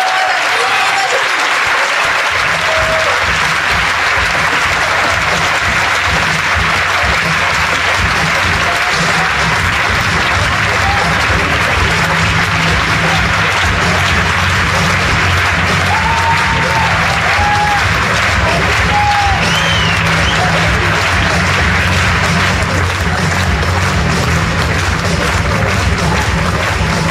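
Sustained, loud applause from a large audience at the Bataclan welcomes Eva Joly to the stage, a dense continuous roar of clapping with scattered cheers and whistles throughout.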